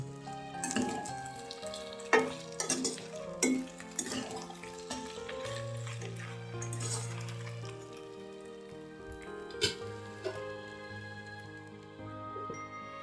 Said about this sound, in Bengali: আমি এখন আলুগুলো দিয়ে দিব, তার সঙ্গে ডালের বড়াগুলো দিয়ে আমি একটু নাড়া দিব